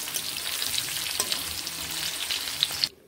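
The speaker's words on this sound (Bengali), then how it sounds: "পনিরগুলোকে ঠিক আমি এই রকম লাল লাল করে ভেজে নিচ্ছি।" Paneer cubes frying in a pan until browned, a steady close hiss and sizzle with faint stirring, no voices, cut off abruptly at the end.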